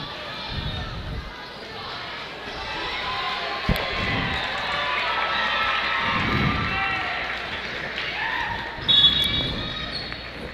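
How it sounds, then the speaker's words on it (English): Crowd and bench grow excited at a girls' 5A state semifinal high school basketball game: a broad, steady swell of cheering and shouting fills the gym, with occasional thumps and squeaks of play underneath. "You hear the bench and the crowd getting a little excited for that one."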